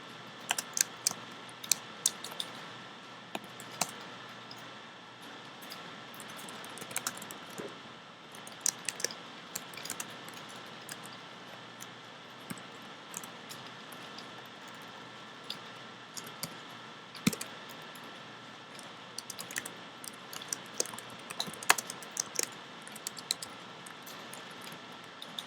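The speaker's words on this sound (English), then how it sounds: "I'm having serious difficulties typing today." Quick, irregular clacking on a computer keyboard goes on throughout, with short bursts and pauses. The keys sound close and moderately quiet, and nobody speaks.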